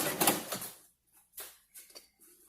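Sewing machine running zigzag stitches, a quick mechanical clatter that starts loud and then breaks into shorter, fainter bursts with gaps between them.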